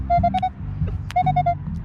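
Equinox 600 metal detector in beach mode at recovery speed 3 giving quick bursts of repeated short beeping target tones in two clusters, clear and close over a low rumbling background.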